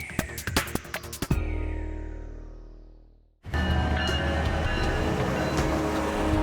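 A Metrolink commuter train passes on the rails: sharp clattering clicks, then a fading tone into near silence, followed by a sudden loud, steady rumble of rolling cars at close range.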